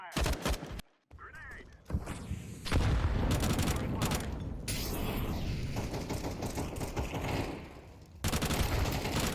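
Counter-Strike 2 gunfire: bursts of rapid rifle shots and booms in sharp clusters with brief gaps, loud and close, mixed with game sounds and a voice talking in between.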